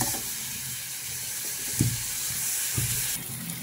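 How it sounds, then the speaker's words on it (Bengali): Onions frying in a pan until deep red give off a constant bright sizzle, broken by a couple of soft knocks from stirring, close and steady with no speech. "আমার পেঁয়াজটা একদম লাল লাল করে ভাজা হয়ে গিয়েছে"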